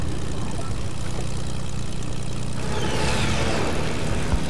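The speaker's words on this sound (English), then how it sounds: "Oh, there's another airplane." An airplane flies overhead during a video game match with a steady, loud droning engine roar that swells with a rising whine in its second half, continuous and without any talk.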